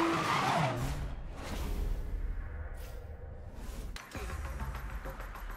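Engine roar and tire skidding from a racing video game, a steady loud blend of motor drone and squealing tires with whooshes, playing continuously without talk.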